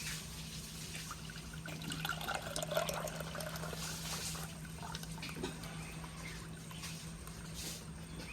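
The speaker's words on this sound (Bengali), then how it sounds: "এই তালের দইয়ের মিশ্রণটা আমি মাটির হাঁড়ির মধ্যে ঢেলে দেবো পুরোটা।" A thick palm-fruit yogurt mixture pours into a clay pot, making a soft, steady trickle and glug that goes on throughout. A low hum sits underneath, and there is no talking.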